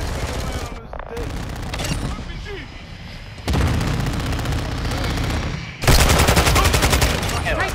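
Gunfire in Call of Duty: Modern Warfare II, with loud, close bursts of rapid automatic shots that cut in and out in several stretches and grow heavier toward the end.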